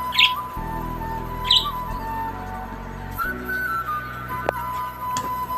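Pet Java sparrows in a cage give two brief, bright chirps a little over a second apart, fairly close, over a steady low electrical hum and some faint clicks.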